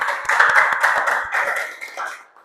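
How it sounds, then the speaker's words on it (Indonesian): Children clapping together in a classroom lesson, a brisk burst of applause that holds steady for about two seconds and then tapers off, close and loud. "Tepuk tangan untuk kita semua."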